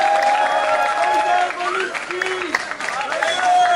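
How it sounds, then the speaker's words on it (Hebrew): Audience applause at a yeshiva karaoke night, steady clapping and crowd noise throughout with voices and cheering mixed in. "תנו כפיים"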